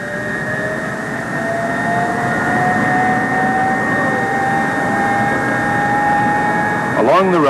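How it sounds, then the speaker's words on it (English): Convair F-102 jet engines starting up with ground power and starting gear attached, giving a loud steady roar with a rising whine that climbs in pitch, and a brief burst of extra noise near the end. "With power and starting gear hooked up to the airplane, the engines are started"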